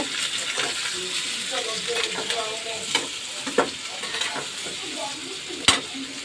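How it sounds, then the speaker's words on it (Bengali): Onions lightly frying in oil, a close steady sizzle broken by repeated clinks and scrapes of a spoon stirring against the pan. "এখন আমি পেঁয়াজটা হালকা করে ভেজে নিব"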